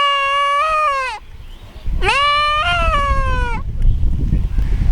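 A goat bleats loudly and close by, two long wavering calls with a short pause between them, against rustling background noise and no talk.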